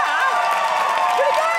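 A live comedy-show audience cheers and whoops with applause mixed in, a loud, dense crowd roar that holds steady throughout the short stretch.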